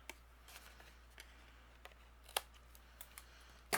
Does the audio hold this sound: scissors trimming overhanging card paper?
yes